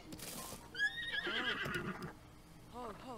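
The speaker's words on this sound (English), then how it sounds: "Okay, horse." A horse in a fantasy open-world adventure video game whinnies with a rising, wavering neigh, then snorts and gives a shorter whinny, with hoof clops mixed in, all fairly quiet.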